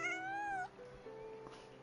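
A cat meows once in the Genshin Impact video game, a clear, close, drawn-out call followed by a faint lingering tone, with no talking.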